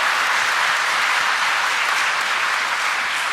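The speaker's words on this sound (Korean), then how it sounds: "다 같이 박수로서 환영하여 드리겠습니다." A church congregation at a Sunday Mass welcomes new catechumens with sustained, steady applause from many hands, dense and loud throughout, with no speech over it.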